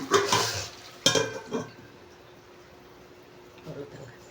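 Food tips into a pot with a clattering pour, followed by a metallic clank as a lid is set on, then quiet; someone speaks over it.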